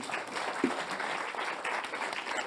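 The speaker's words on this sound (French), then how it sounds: "On va l'applaudir." An audience at an evening event on nuclear technology applauds, giving a steady wash of clapping from many hands throughout the short moment.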